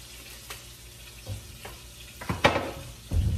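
Taco meat seasoned with Creole seasoning sizzles in a pan, a steady close frying hiss punctuated by several scraping stirs and clinks of a utensil.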